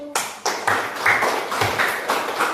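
A class of students gives a short round of applause, clapping in quick, loosely rhythmic bursts that sound close and fill the whole moment.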